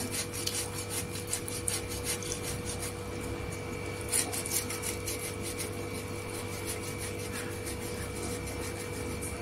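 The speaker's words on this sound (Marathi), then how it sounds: "मी 1 कप गव्हाचा पीठ घेतलेला आहे, त्याच्यामध्ये 1 बॉईल केलेला बटाटा आहे, त्याला आपण किसून टाकायचा" A boiled potato is grated by hand into a bowl of wheat flour, giving a steady run of dry, raspy rubbing strokes at close range, with no talking.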